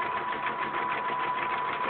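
A sewing machine stitches steadily while quilting, presser foot down, as it outlines a small rectangle: a continuous, even, rapid motor whir with a fast mechanical needle rhythm, close and consistent throughout.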